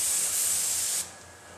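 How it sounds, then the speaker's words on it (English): A C.A. Technologies TJR glaze spray gun coats a door with a loud, steady airy hiss for about a second, then drops to a softer hiss. "we can do that with this particular gun, coating the whole door"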